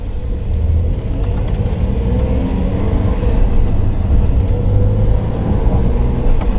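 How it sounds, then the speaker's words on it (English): Inside a 2025 Porsche 911 Carrera T with a manual gearbox, a steady, low engine and road rumble fills the cabin at a constant, moderately loud level while driving. "we're driving the freaking Porsche right now"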